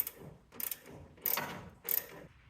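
Ratchet wrench turning an 18mm socket on a 3/8 to 1/2 drive adapter, tightening a rear bumper bolt on a 1994 Chevy K1500 pickup: four short, quiet bursts of rapid clicking with brief pauses between.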